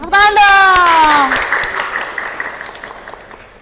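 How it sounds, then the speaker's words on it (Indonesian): Audience applause at a student talk show about leading school extracurricular clubs, a burst of clapping starting under a sustained sung or spoken voice, then trailing off into scattered claps. "Tepuk tangan dong."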